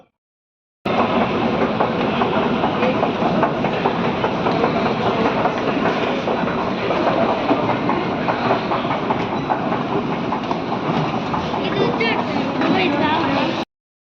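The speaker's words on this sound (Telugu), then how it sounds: "ప్రెసెంట్ మెట్రోలో అయితే ఉన్నాం" A metro train rumbles along with a loud, steady roar and clattering rhythm, heard from inside a carriage, continuous throughout.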